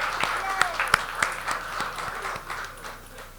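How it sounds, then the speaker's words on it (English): Applause from a room of Rotary club members and guests at an urban winery meeting, a steady wash of clapping with a few sharp individual claps standing out, fading slightly toward the end. "Let's give our guests and prospective members another round of applause"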